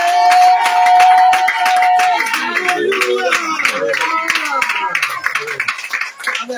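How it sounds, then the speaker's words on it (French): Congregation clapping at an intense prayer evening, a steady burst of hand claps with crowd voices and cheering mixed in, loud and close, tapering toward the end. "Les acclamations, c'est pour la gloire de Jésus"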